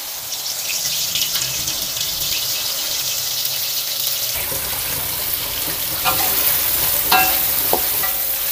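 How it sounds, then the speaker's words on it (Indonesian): Steady sizzling of tofu frying in a pan with turmeric and salt, with occasional scraping and stirring clinks toward the end; no talking. "Ini tahu saya nak gorengnya"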